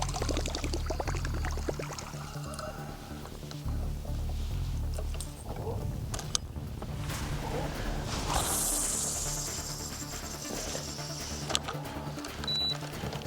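A Whopper-Popper topwater lure is cast on a pike or musky fishing trip and lands in crystal-clear water: a rising swish followed by a splash, set against steady outdoor background noise.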